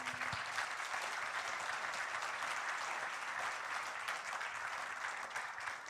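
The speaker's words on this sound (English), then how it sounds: "let's give them all a big round of applause" Sustained applause from the audience at the Indonesia Energy Transition Mechanism Country Platform launch, a steady dense wash of clapping heard at a distance with no speech over it.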